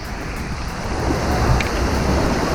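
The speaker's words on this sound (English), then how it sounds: "You gotta jump over the waves." Artificial surf rolls through the wave pool at the Coco Cay thrill waterpark, a steady, loud wash of breaking water with wind buffeting the microphone and no voices.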